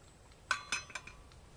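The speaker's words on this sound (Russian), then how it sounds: "Достаю кружку." A few light metallic clinks and taps as a small metal camping mug is taken out and set down, close and quiet.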